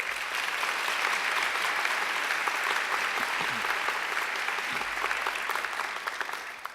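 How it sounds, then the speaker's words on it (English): Sustained round of applause from a graduation ceremony crowd at Macquarie University, dense and steady throughout, with scattered individual claps standing out and a few faint voices underneath. "I think she deserves another great round of applause."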